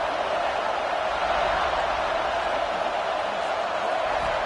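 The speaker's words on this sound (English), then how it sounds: "This crowd ready to make its presence known." A football stadium crowd in Miami roars in a steady, dense wash of noise that holds at an even level throughout, with no distinct voices standing out.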